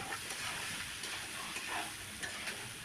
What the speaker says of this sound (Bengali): তবে কিন্তু আমি আলুগুলো ছেড়ে দিচ্ছি।